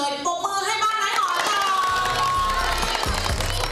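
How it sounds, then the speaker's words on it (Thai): A television studio audience cheers and claps together, a loud, dense crowd roar with excited shouts and a rising whistle-like cry, swelling steadily. "ทุกคู่เลยปรบมือให้บ้านไม้หอม"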